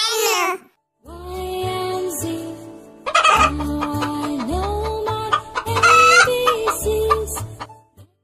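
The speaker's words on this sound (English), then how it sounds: "H for hen." Chickens clucking and squawking close by in repeated bursts, with a rooster-like crow mixed in, set against a rhythmic musical backing.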